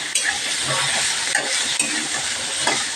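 Salted potatoes fry in a pan with a loud, continuous sizzle just next to the listener, mixed with the scrape and clink of a spatula as they are stirred.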